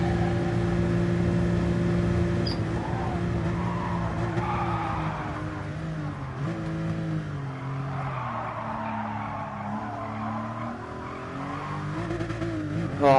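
A race car in a time-trial driving video game drones steadily through a first corner taken in third gear, engine pitch dipping and rising while tires squeal intermittently, with no talk over it.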